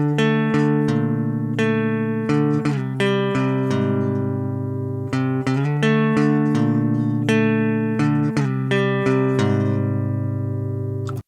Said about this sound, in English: Now let's hear it with the humbucker sound.